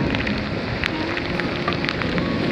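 Heavy rain in Da Lat falls steadily as a dense hiss with scattered nearby drops and wind noise. The sound is continuous and close, with no voices.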